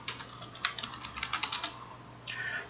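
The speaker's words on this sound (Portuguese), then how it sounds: "Você vai digitar aqui, ó, vai digitar" Close computer keyboard typing during work in ArcGIS software, a quick burst of crisp keystrokes over a low steady hum, ending in a brief softer rustle.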